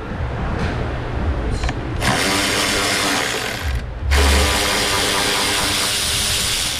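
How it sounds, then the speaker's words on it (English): A power tool spins bolts out of a car's radiator core support mount, running in loud near bursts with short pauses, a ratcheting mechanical whir that restarts and keeps going strongly to the end. "I'm going to go ahead and pull those bolts out next."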